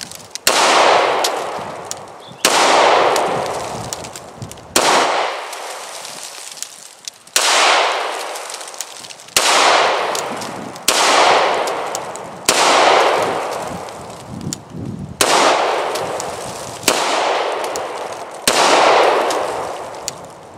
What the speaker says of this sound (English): shoot it some more